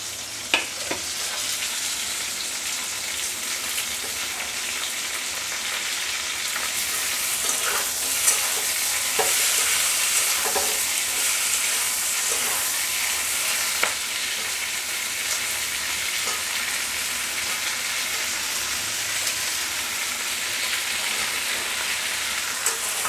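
Mixed vegetables, including pointed gourd, taro and potato, frying in oil in a pan for a hilsa fish dish: a loud, continuous close sizzle with occasional stirring scrapes and clicks throughout.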